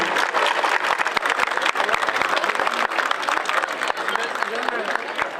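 At a lively homecoming welcome in Antalya for a champion wrestler, a crowd applauds the city mayor. Dense clapping runs loud throughout, with crisp individual claps standing out and voices murmuring underneath.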